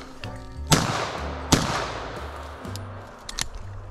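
A shotgun fired at a woodcock on a hunt outdoors, two sharp loud blasts about a second apart, each with a short fading tail, followed by quieter rustling.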